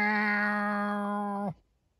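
A single drawn-out cat meow, loud and close, holding a steady pitch for about a second and a half before cutting off into silence.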